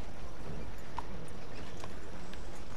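The big war horse from Red Dead Redemption 2 walks, its hooves clip-clopping in a soft, steady rhythm under a constant game ambience. The footfalls are faint and only loosely spaced.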